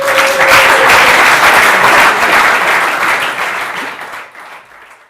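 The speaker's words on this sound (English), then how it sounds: "So I'd like a warm applause for Stefan Sagmeister." An audience greets designer Stefan Sagmeister with a loud, dense burst of applause that holds steady for several seconds, then thins and fades out near the end.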